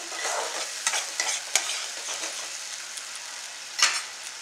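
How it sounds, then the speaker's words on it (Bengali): Ginger, garlic, green chilli and cumin masala sizzles steadily in a hot pan, with brief scraping strokes of a spoon as it is stirred close-up, and no voices. "আদা, রসুন, কাঁচা লঙ্কা আর একটু অল্প জিরে। এই মশলাটা এর মধ্যে ভালো করে কষাবো।"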